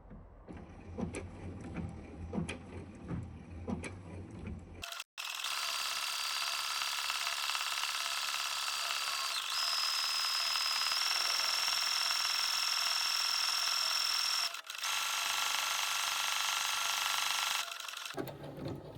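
A sewing machine stitching a raw edge appliqué runs slowly and steadily for about thirteen seconds as one loud, even mechanical whir. Quieter rustling handling noises come first, and the machine stops abruptly at the end.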